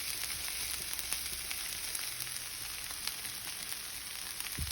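Tomatoes fry with steak in a pan over medium-low heat, giving a steady, close hissing sizzle with faint pops and a soft clink near the end, no talking.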